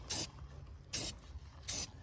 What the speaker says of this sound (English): I'm really being conservative where I spray this at, especially in spots I didn't tape up.